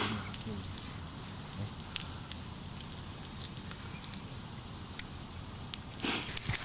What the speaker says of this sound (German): Das muss regnen.